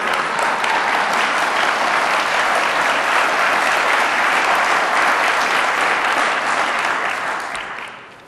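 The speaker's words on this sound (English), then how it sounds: "I did have on here pause for applause." Sustained applause from an audience at an Alaska Sports Hall of Fame induction for the Great Alaska Shootout basketball tournament, loud and even for several seconds before tapering off at the end.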